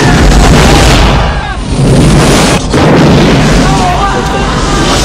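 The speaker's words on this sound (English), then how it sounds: "all I'm seeing is a series of explosions and car wrecks" At a New Year's Eve comedy show, loud, dense cinematic booms and crashes of movie explosions and car wrecks roll continuously, with a brief dip before another heavy blast, and faint voices mixed into the chaotic action din.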